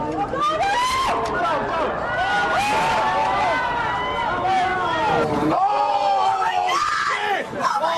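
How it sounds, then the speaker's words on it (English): People screaming and yelling near the camera in amateur footage of the Twin Towers attack, loud overlapping high-pitched shrieks and cries from a crowd, continuous and close. "the soundtrack is usually covered by the screams of those standing around the camera"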